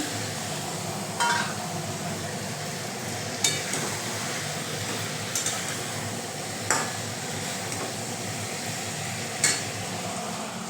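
Onion and capsicum cooking in a frying pan with soy sauce and tomato chili sauce for chili mushroom, giving a steady, even sizzle throughout, broken by a few faint clinks of a utensil.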